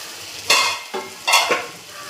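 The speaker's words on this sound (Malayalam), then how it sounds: "ഒന്ന് മിക്സ് ചെയ്യുക." Chopped coriander is stirred into a sizzling mixture in a frying pan: four quick, close scraping strokes rise over a soft background fry.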